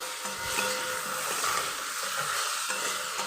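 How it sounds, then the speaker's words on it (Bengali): Potatoes fry with powdered spices and ginger under a continuous close sizzle, with soft stirring scrapes throughout and no speech. "মশলাগুলো দিয়ে ভালো করে নেড়ে নেবো। আদাটাও দিয়ে দেবো।"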